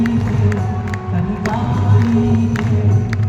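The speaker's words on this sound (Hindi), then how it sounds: "देखो कूल का तालियों के साथ स्वागत करते हैं खान सर का।" A large crowd welcoming a teacher onto stage cheers and claps in a dense, continuous roar, with scattered whoops and a low steady rumble underneath.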